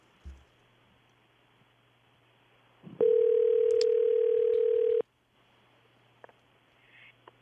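A telephone dial tone during a radio show phone call holds steady for about two seconds, loud and clear after a faint click, then cuts off abruptly into quiet room noise.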